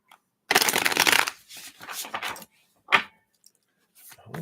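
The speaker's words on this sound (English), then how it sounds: "Let's give these a good shuffle." A deck of cards is riffled close by in a quick burst, followed by a few shorter shuffles and taps with pauses between.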